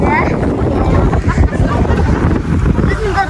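A boat ride on Lake Alakol gives a continuous rumbling wash of water and wind buffeting, with voices faintly mixed in.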